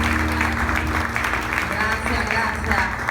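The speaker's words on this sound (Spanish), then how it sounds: "Denle ese aplauso más fuerte al Señor que me ha permitido estar aquí." Church congregation applauding at a Spanish-language worship service, a steady loud wash of clapping that fills the whole stretch, with a voice speaking over it.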